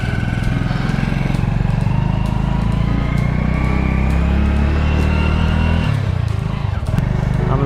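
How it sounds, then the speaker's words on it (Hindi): A motorcycle engine drones loudly and steadily up close during a ride, a continuous low rumble with road and wind noise that dips briefly near the end. "आज बाइक से जा रहा था हम में"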